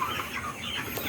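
Sonali High Super Plus chickens in a large sale batch make a continuous hubbub of overlapping clucks and chatter, fairly loud and without pauses.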